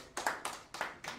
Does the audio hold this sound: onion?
no